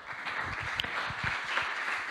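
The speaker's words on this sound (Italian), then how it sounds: "e arriva l'applauso da tutto il mondo" Applause from a crowd, a steady wash of many hands clapping at moderate volume, with a few sharper individual claps standing out over a brief stretch.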